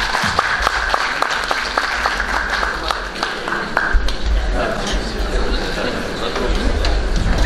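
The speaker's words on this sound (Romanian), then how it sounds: "Au câștigat aplauze pentru cei care au spus Șimleu" An audience at a conference on Christianity and democracy bursts into sustained applause, dense clapping filling the hall steadily throughout, with a little chatter mixed underneath.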